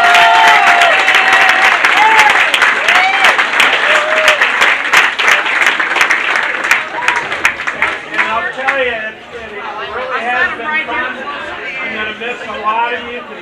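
Season ticket holders clap loudly at a Dayton Demonz hockey year-end party ceremony. The applause is dense and close, with voices and cheers mixed in, and it fades into chatter and talking near the end.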